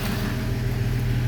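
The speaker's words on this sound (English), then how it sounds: "But after the choke opens, then it idles." A 1979 Ford F-100 engine idles after the choke opens, giving a loud, close, steady low rumble for a brief moment with no voices over it.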